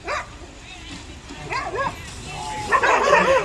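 A team of sled dogs in Skagway, Alaska barks, yips and whimpers eagerly, the excited calls rising toward the end, while people talk over the noise nearby.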